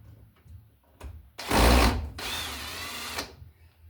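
Power drill driving screws into an electrical double gang box: two loud whirring bursts of the drill motor, close and alone, with quieter handling clicks before.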